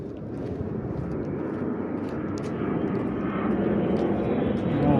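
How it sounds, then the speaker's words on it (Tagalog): A fixed-wing airplane passes overhead above the city of Kosice, Slovakia. Its distant, broad engine rumble slowly swells in loudness over several seconds, with faint voices in the background. "Ito nakita aeroplano"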